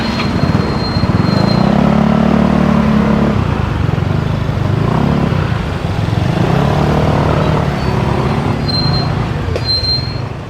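Road traffic with motorcycles and cars passing at a roadside checkpoint in Cavite, a continuous engine rumble with a louder vehicle drone swelling and fading, no talk heard.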